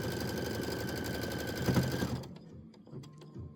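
An embroidery machine runs a placement stitch on a table-top display panel, with a rapid mechanical whir and a steady hum for about two seconds, then stopping into quieter scattered clicks and handling sounds.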